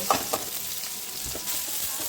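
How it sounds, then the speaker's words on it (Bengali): Chopped onions fry in a cup of hot oil in a pan, making a dense, steady sizzle up close, with a couple of sharp clinks at the start and soft stirring bumps. "1 কাপ তেল হচ্ছে 1 কাপ পেঁয়াজ নিয়ে নিয়েছি, তার মধ্যে হচ্ছে হাফ কাপ পেঁয়াজ আমি এখন দিয়ে দিচ্ছি"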